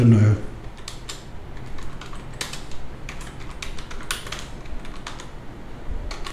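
Fingers tapping on a computer keyboard while writing in a simple word processor, a close, fairly steady run of clicky keystrokes with uneven pauses.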